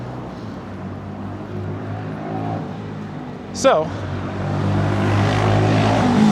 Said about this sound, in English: I'm not sure how much of this video is going to be usable over the traffic noise.